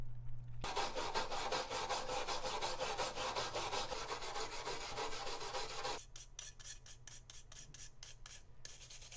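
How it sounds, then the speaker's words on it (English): A steel brush scrubs hard rust from the profile and tang of a vintage knife blade in steady, rapid back-and-forth strokes that are close and rasping, turning into sharper, separate strokes toward the end. "to remove the hard rust buildup, I used a steel brush on the profile and the tang of the blade"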